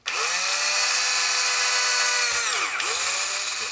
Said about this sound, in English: I think just for accuracy, I'm going to start off with a 1/8 inch drill bit.